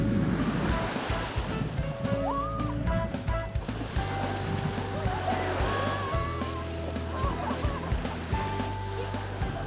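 Waves wash steadily onto a seaside beach, a constant surf hiss close by, with faint bird calls and scattered background sounds over the top.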